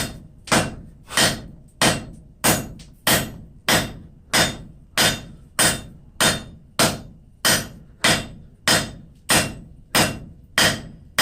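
A hammer repeatedly strikes hot steel on an anvil while drawing out stock for pickup tongs in a blacksmith forge, steady rhythmic blows about once every 0.7 seconds, close and loud, each ringing briefly with no talking.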